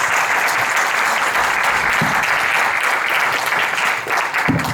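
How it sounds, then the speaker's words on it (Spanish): Sustained audience applause at a conference, a thick, even wash of many hands clapping, loud and steady throughout with no voices. "Recibámoslo con un fuerte aplauso, por favor"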